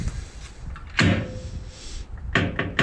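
Kuat Pivot v2 swingaway hitch mount closing: a solid metallic clunk as the arm swings shut, then a few more quick knocks and rattles close up as it settles.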